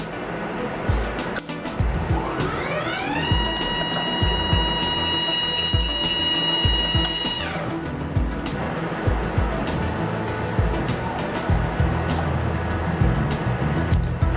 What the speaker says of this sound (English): We already started our press, seating up, pressing the material down.